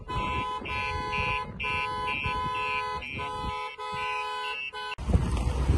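A StarLine alarm on a 1986 Ford Sierra RS Cosworth, triggered by its shock sensor, blares a steady, repeating electronic tone in loud pulses, with a burst of rustling noise near the end.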